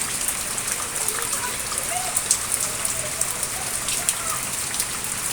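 Heavy rain pours steadily outside a house gate during flooding, a dense continuous hiss of drops striking surfaces and water, with faint voices now and then beneath the downpour.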